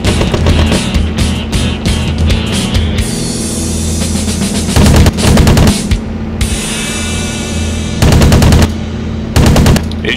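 Loud machine gun fire from WWII-era Spitfire and Hurricane fighters in a flight combat video game rattles in long, continuous bursts over a steady engine drone, with brief pauses between volleys.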